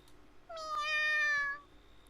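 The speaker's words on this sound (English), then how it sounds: "Just then, we hear a tiny meow from inside." A single tiny cat meow sounds from inside a box in a video game, one clear, rising-then-falling mew of about a second, isolated against near silence.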